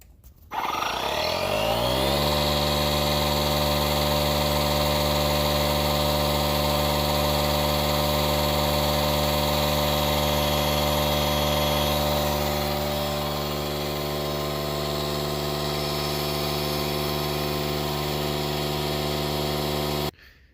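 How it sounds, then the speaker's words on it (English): A DeWalt 20 volt max cordless inflator running on a 4.0 battery while filling a tire: it starts up with a rising whine and settles into a loud, steady droning hum that continues unbroken, with no speech, before cutting off at the end. "So that took this 20 volt max DeWalt inflator 20 minutes to fill up that tire"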